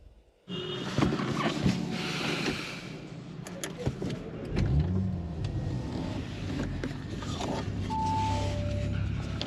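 An Audi RS5 starts and pulls away from inside the cabin, a steady engine hum and road rumble running throughout with some faint mechanical creaks and clicks.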